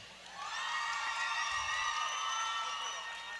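Spectators cheer for the Lansing home team, a big sustained crowd roar of whoops and shouts that rises quickly and stays loud.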